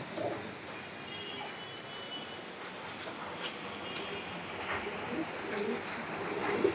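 Pigeons coo softly among a faint, airy background hiss, with scattered soft calls spread over several seconds and no speech.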